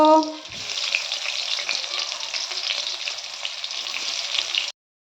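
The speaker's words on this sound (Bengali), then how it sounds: "ওই তেলের মধ্যে আমি কিন্তু বাকি পটলগুলো ভেজে নেব" Pointed gourd (potol) pieces frying in hot oil, a loud, dense, continuous sizzle that starts right after a short tonal clink and cuts off abruptly near the end, no voices.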